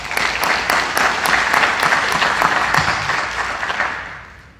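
At a State of the City event, an audience applauds the chorus with a loud burst of crowd clapping, some sharp individual claps standing out, sustained and then gradually fading away.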